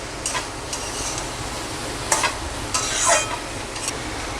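Rohu fish head curry with greens is stir-fried in a pan, a constant sizzle under repeated scraping spatula strokes and a few clicks, close and fairly loud, no voices.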